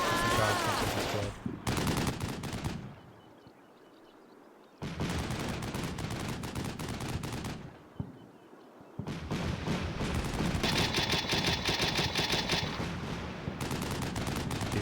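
Gunfire from the video game Combat Mission Shock Force 2, an urban fight around a holdout building: dense bursts of machine-gun and rifle fire in loud sustained volleys, broken by short lulls of quieter distant shooting.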